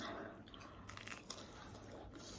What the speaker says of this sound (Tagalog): Pangalawang kagat.